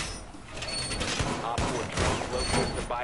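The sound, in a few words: gunfire in a PS4 video game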